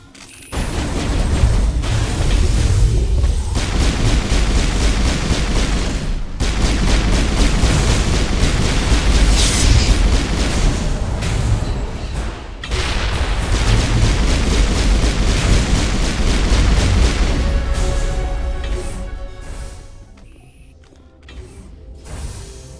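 Mass Effect 1 battle audio, loud and nearly continuous, with gunfire, booming explosions and metallic mechanical clatter running through most of the stretch before thinning out near the end.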